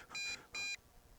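A MJX Bugs 3 Pro GPS brushless drone sounds its low-battery warning: two short, bright electronic beeps in quick succession, clear against a faint background.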